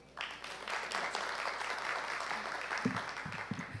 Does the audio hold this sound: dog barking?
no